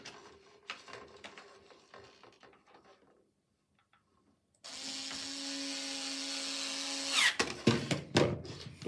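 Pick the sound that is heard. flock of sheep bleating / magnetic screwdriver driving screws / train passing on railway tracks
magnetic screwdriver driving screws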